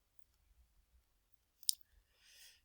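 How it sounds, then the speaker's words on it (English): A single crisp computer mouse click, close and isolated, surrounded by near silence and a soft rustle of movement just before and after. "So we'll click here."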